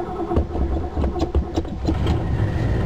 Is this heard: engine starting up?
yes